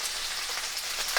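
Dolma fry in hot, spitting oil, a close, steady hiss of sizzling with small pops and crackles over a brief stretch.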